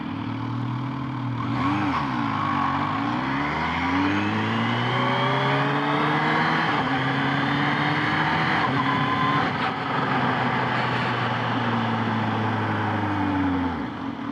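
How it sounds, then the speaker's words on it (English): Kawasaki ZH2 supercharged motorcycle engine running steadily and loud with rising and falling pitch sweeps, plus a high supercharger whir, while riding. "God, I love hearing that supercharger twirling back."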